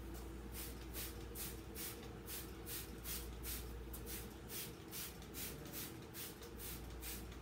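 Steady hissing spray of paint onto a canvas comes in a rapid series of short regular pulses, close up, against a constant low background rumble.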